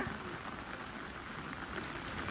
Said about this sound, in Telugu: నీళ్ళు కారుతున్నాయి పైన నుండి